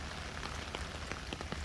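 Rain pattering on an umbrella while walking outdoors, a dense steady patter with scattered louder drops, close and continuous with no talking.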